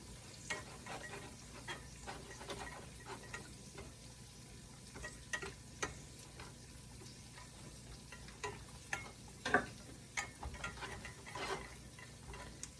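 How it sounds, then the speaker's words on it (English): A tablespoon of flour is stirred into liquid in a pan on a stove at medium-high heat, giving steady soft sizzling with scattered scraping clicks of the utensil throughout. "this tablespoon of flour. And I'm going to mix that around till it's well incorporated"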